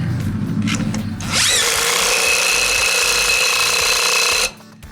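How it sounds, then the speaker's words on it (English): Power tool, likely an impact wrench, spinning a nut onto a 1967 VW Bus wheel: one steady, loud high-pitched whir of about three seconds, starting abruptly after quieter shop noise and cutting off sharply. "now we're gonna run this nut on."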